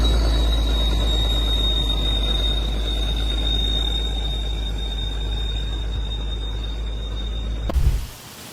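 Freight train hauling sugar rolls past with a steady high metallic wheel squeal over a deep continuous rumble, close and loud, ending with a brief thump.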